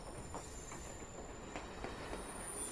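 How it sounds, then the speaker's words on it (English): A train from Shin Hamamatsu slows after leaving a tunnel, its steady rumble joined by faint clicking and thin, high wheel squeal running through the whole stretch, with no voices. "We came out of a tunnel, so we're dropping speed slightly."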